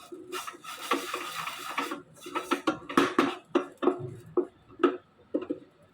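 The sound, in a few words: mixing carrot sevai with cardamom and coconut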